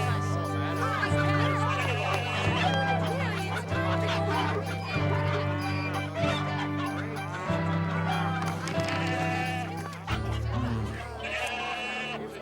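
Cartoon animals and birds in a temple market make a busy chorus of bleating sheep and goats and clucking fowl over a steady musical background, close and continuous.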